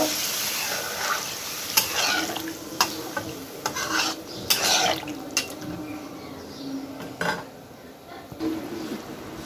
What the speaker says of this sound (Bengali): এখন আমি এই পানিটা দিয়ে দিব